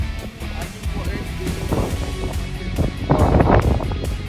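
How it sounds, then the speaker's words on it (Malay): Strong wind gusting across the summit of Mount Sibayak in North Sumatra, a steady roaring rush buffeting the microphone, swelling louder near the end, with people talking underneath. "angin kuat kan"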